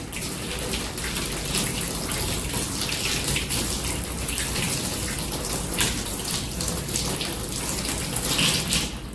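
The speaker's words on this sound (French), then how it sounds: "Rincez les mains à l'eau." Hands being rinsed under a running tap during a hospital handwashing routine, a steady rushing stream of water splashing continuously and fairly loudly throughout, with no voices.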